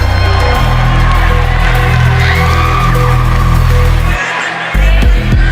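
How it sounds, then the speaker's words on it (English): A large pageant crowd at the Miss Earth 2025 finals roars and cheers for the contestant from Thailand, a loud, sustained wash of shouts and screams that dips briefly before surging again. "now's your chance to make some noise for Thailand"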